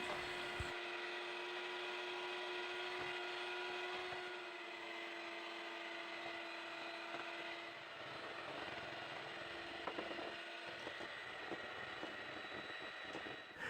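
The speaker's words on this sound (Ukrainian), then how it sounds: "Яйця збиваємо до пухкої маси." Eggs being beaten with sugar until fluffy, most likely with an electric mixer, making a continuous steady motor whir and hum throughout with occasional faint clatters.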